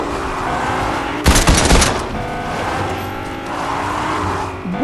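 Car engine in the Fortnite video game humming and approaching, with a sharp burst of rapid gunfire partway through and the motor droning on afterward.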